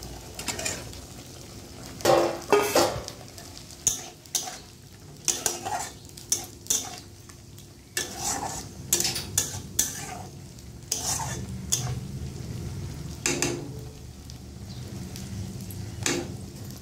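Pointed gourd pieces stirred into frying poppy seed paste in a pan, giving irregular scraping and clattering spoon strokes over a soft sizzle, close and fairly loud, with no talking.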